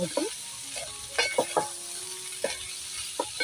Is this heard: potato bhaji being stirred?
yes